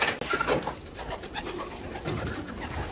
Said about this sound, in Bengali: ছয়টা রুমে প্রায় 1000+ কবুতর আছে এখানে।